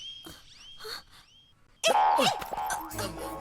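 A dog barks and yelps in a few sharp bursts close by, joined by a man's frantic, fearful voice at the end.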